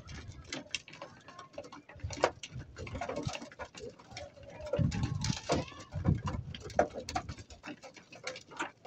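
Hungry racing pigeons peck rapidly at garlic-mixed feed, a busy close patter of beaks tapping the tray with occasional soft coos and little talk.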